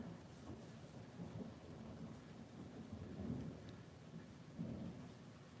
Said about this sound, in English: And there goes more thunder.